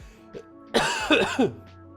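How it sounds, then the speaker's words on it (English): One harsh, congested cough bursts out close to the listener, breaking into a couple of rough pulses before trailing off. "had to cough right there"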